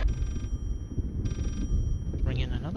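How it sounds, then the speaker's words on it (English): Telephone ringing inside the horror game Layers of Fear, heard as two bursts of a high bell-like ring separated by a pause, fairly faint beneath ambient game noise and a brief tonal sweep near the end. "Ring in another phone, is it?"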